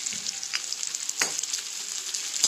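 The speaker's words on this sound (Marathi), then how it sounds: "आता ह्याच्यामध्ये मी हे टाकायला, लसूण" Crushed garlic frying in an iron kadhai gives a steady, close hiss and sizzle with a few small pops and crackles. No voices are heard.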